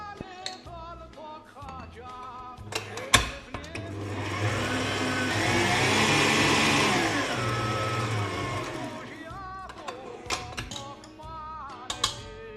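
An electric mixer whisks jam into a Maltese village cookie mixture, its motor rising to a smooth, moderately loud whir in the middle of the clip, with sharp knocks and clatter before and after.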